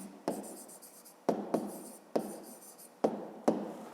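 Pen or pencil writing by hand on paper while solving a school maths exercise, heard as close, distinct bursts of scratchy strokes with short pauses between them, alone with no talking.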